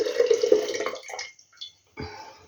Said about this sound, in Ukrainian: Я її от сюди у літрову баночку зливаю